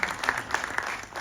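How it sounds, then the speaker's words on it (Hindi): Audience applause at a Bollywood trailer launch event, a short burst of scattered clapping with distinct individual claps, moderately distant. "पंकज त्रिपाठी सर के लिए तालियां हो जाए"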